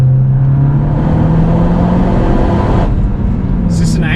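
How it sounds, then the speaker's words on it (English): Car accelerating hard from 80 km/h and dropping down through the gears, a loud close engine roar from inside the cabin with a falling then rising tone, and a voice speaks briefly near the end. "From 80 kilometers per hour, this feels super potent. Like, I'm really impressed with how easily it drops down the gears."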